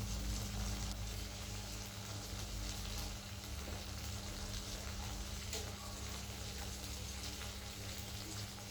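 Hog plums (amra) fry in a pan with a little salt, giving a steady, even sizzle that holds for the whole stretch with no pauses and no voices.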